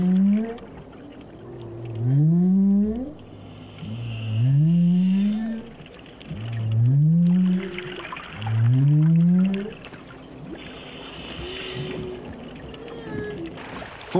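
Humpback whale song: four long, booming rising moans arrive at a slow, regular pace, each loud and resonant, followed by quieter higher calls against a hissing underwater background.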